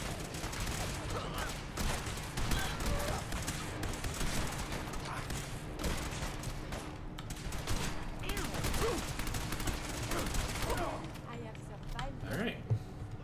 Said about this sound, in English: I think it's semi-appropriate that I use the Silver Shroud's weapons to do this